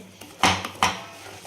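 Flour roasting in a pan for barfi is stirred with a utensil, giving two sharp close scraping clatters against the metal with lighter taps between, brief and fairly loud, with no speech.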